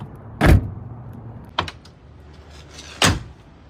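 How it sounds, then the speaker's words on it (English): Three solid Honda Element door thuds close by, evenly spaced, each a heavy dull shut, the middle one lighter than the others. "When you shut the doors on this car, it sounds exactly like that."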